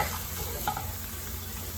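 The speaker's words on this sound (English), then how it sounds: "So I am gonna cook the onions for a while" Onions frying in a pan for dal makhni, a steady close sizzle with faint crackles throughout and no talking.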